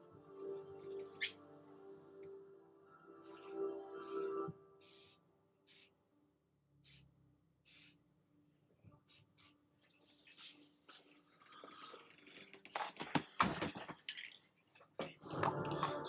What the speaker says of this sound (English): I'm just going to spray that quick.